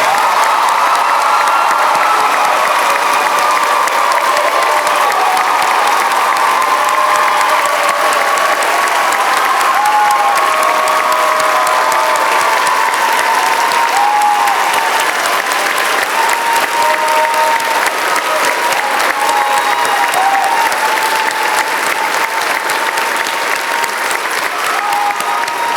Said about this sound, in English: Please give all of these students a big round of applause.